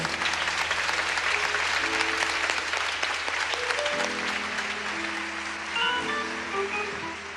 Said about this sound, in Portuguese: aplauda a palavra do Senhor com força